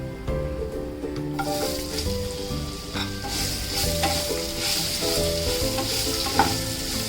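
Raw mango pieces sauté in spices in a pan, giving a steady close sizzle with stirring and occasional scrapes that run throughout over a soft musical backdrop.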